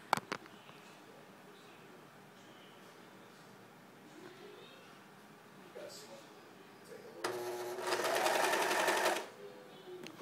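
A serger sewing machine stitching fabric after being threaded, first a quiet background with small handling noises, then a loud, fast, steady mechanical whir for about two seconds close by.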